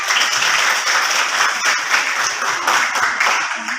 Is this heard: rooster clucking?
no